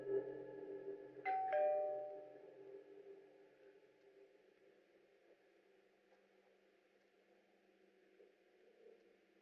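A cartoon doorbell rings once near the start, a bright two-tone chime that rings out and fades over a low steady hum, with quiet background noise for the rest of the clip.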